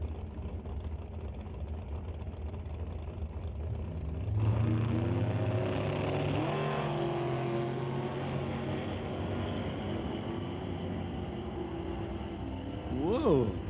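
A drag racing dragster roars through a pass at a door-car event, a loud rising engine howl that swells around mid-clip, with a commentator talking over it and crowd noise behind.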